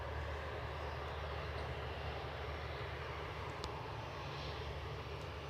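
A Ryanair airliner takes off at Edinburgh with a continuous loud jet roar and a deep low rumble, steady and sustained from a moderate distance, with no talking over it.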